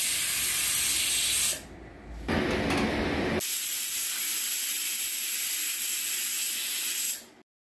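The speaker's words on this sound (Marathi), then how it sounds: "कुकरच्या 3 शिट्ट्या करून घ्यायच्या" Pressure cooker on the stove venting steam while cooking jeera rice, a loud sustained hiss that breaks off briefly, returns with a rougher burst, then holds steady before stopping abruptly.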